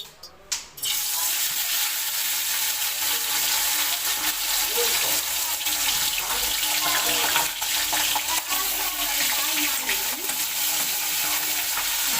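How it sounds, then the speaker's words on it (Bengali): Pomfret fish drop into hot oil in a wok. After a brief quiet moment, a loud, steady, crackling sizzle takes over and carries on close and unbroken. "কড়াইয়ে তেলটা গরম হয়ে এসেছে। আমি এবার এক এক করে মাছগুলো দিয়ে দেব।"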